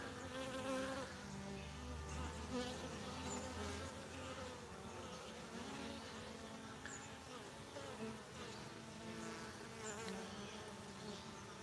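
Honey bees fly in and out of a beehive's restricted entrance, a faint but continuous buzzing drone with individual wingbeats rising and fading as insects pass close.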